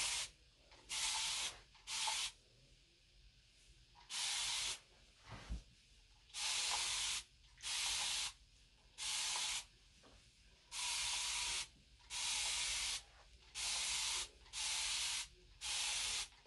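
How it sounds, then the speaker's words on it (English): A spray bottle mists water onto hair in a series of about a dozen short, crisp hissing bursts, fairly evenly spaced, each lasting under a second, close and distinct against a quiet room. "So now we're going to spray the water."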